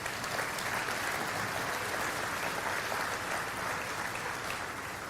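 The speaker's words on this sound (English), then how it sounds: "And then, yes, clap for them." Banquet audience at the North Dakota Shrine Bowl claps for the players, a steady, even hiss of many hands clapping at moderate distance, continuous throughout with no talking.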